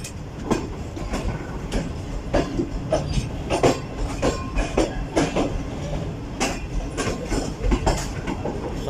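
The Karakoram Express rolls along the rails between Karachi and Lahore, a continuous rumble broken by repeated clickety-clack wheel beats over rail joints, with faint squeals, heard from inside the train without speech.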